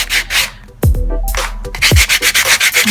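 Sandpaper rubbed by hand on a Dollar Tree candle sconce, close and loud, with quick rhythmic back-and-forth scratching strokes broken by a couple of brief knocks.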